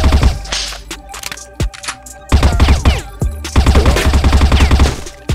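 Rapid bursts of video-game gunfire, loud and close, with clusters of shots separated by short pauses, layered over a steady low game soundtrack.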